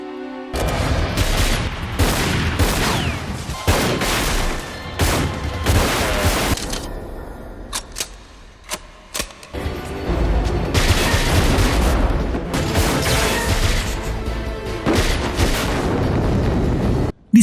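Gunfire exchange in a movie shootout between two men: repeated loud bursts of shots and heavy booms in dense volleys, with a brief lull midway before the firing resumes at full intensity.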